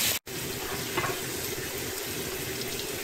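Steady crackling sizzle of food frying in a pan, close and continuous, with a brief dropout near the start and faint clinks.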